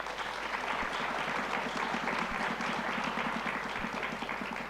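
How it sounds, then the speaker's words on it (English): Conference audience at a Cedefop anniversary event in Europe claps in dense, steady applause heard at a distance in a large hall, even in level throughout with no voices over it. "Please give them an applause"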